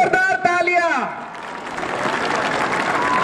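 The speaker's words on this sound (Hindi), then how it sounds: "एक बार जोरदार तालियां" Loud crowd applause at a horse show in Rajasthan, rising to a dense, sustained roar of clapping right after a voice falls silent.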